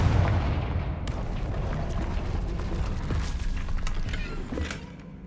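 Confringo blasting spell cast in Hogwarts Legacy on PS5, a loud booming fiery burst that rumbles continuously with crackling, clattering impacts layered over it, fading slightly at the end.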